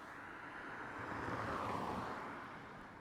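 Steady broadband traffic roar from cars passing on a nearby road, swelling in the middle as a vehicle goes by, heard from a stopped eBike on a hill with no talking.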